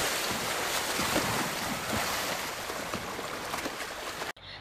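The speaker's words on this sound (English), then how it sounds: "a group of boys is rushing into the water while splashing" Boys rushing and splashing into sea water in a beach scene from the film Jaws, a dense, continuous roar of churning water and surf that holds steady, then cuts off abruptly at the end.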